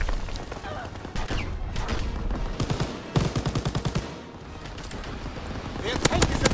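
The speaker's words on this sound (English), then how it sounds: "They fire on the infantry by the tank!" Dense bursts of video-game gunfire in a war-mode match, rapid repeated shots and machine-gun fusillades aimed at infantry beside a tank, loud and continuous throughout with voices talking over it.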